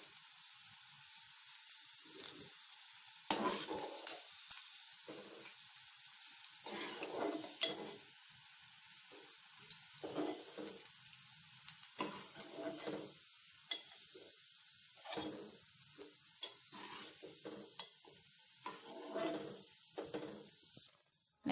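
Bitter gourd slices fry in an oiled pan, a soft constant sizzle broken by repeated bursts of stirring and scraping as the pieces are moved around, fairly quiet and close.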